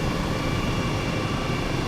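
An H135 helicopter in the Microsoft Flight Simulator video game gives off a steady, loud drone of engine and rotor noise. It holds at an even level throughout, with no one speaking.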